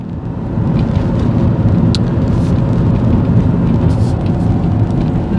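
Ford Escape driving at around 30 to 40 mph while braking gradually, a steady low road rumble and tire noise holding evenly throughout with no talking.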